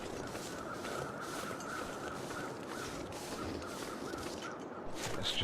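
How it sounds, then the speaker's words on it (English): Crows cawing in the survival game The Long Dark, repeated harsh calls scattered across a steady windy outdoor bed, moderately distant, with no talk. "Crows up there."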